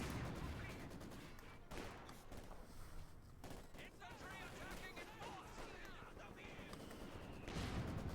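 Mortar and gunfire in the WWII strategy game Company of Heroes 2, a steady crackle of battle with scattered blasts under quiet commentary, rising again near the close.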